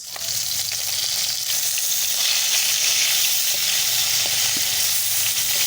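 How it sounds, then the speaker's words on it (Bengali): Fish pieces frying in oil in a wok (kadai) for a Bengali fish curry: a steady, dense sizzle that holds loud and continuous throughout, with no voices. "প্রথমে আমি মাছটাকে কড়াই তেল দিয়ে ভাজতে বসিয়ে দিয়েছি।"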